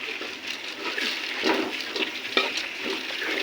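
Rice stirred into a chicken masala in a pan for a chicken and vegetable khichuri, giving a steady close sizzle with scraping spoon strokes and a couple of sharper clinks, with no talking.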